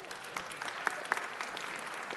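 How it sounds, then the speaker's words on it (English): A city council meeting audience claps for San Fernando High School. The applause is moderate and sustained, with a few sharper individual claps standing out from the steady patter. "Let's give them one more round of applause"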